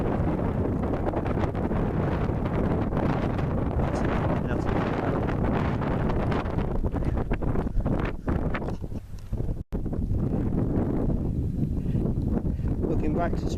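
Strong wind roars across the exposed ridge of Striding Edge on Helvellyn, buffeting the microphone in a loud, steady rush that barely drops out for a moment.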